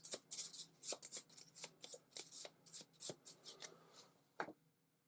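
A deck of cards being shuffled, a rapid series of close, crisp riffling bursts in uneven rhythm that ends with one final flick.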